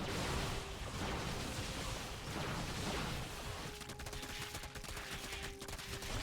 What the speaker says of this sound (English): Stalker's going to shoot.